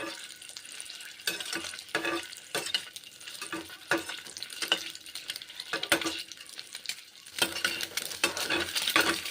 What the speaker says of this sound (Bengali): সর্ষের তেল গরম করে ডিমগুলোকে ভেজে নিচ্ছি